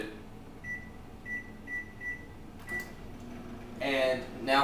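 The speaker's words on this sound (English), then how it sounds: "So I have about 2 cups of milk here, which I'm going to be placing in the microwave for about 7 minutes." A microwave oven heating about two cups of milk gives a short series of four or five evenly spaced beeps over a low steady hum, with a burst of louder clatter and movement near the end.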